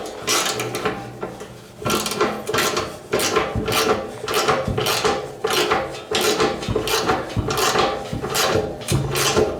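A ratchet tightens a bolt on the plow mount of a 2014 Yamaha Grizzly 700 KFI ATV for a 54-inch plow. Dense metallic clicking runs in steady bursts, close and fairly loud, with no talking.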